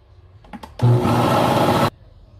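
A blender gives chocolate cake batter a quick pulse to mix in the baking powder, starting with a few clicks and then a single loud, steady whir of about a second before cutting off abruptly.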